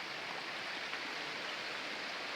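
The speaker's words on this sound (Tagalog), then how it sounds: "Sapa yan, sapa." Broadband rushing of a mountain stream on the trail to Mount Banahaw via Tayabas, a steady close wash of flowing water with no break or pause.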